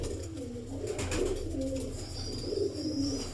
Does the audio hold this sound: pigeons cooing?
yes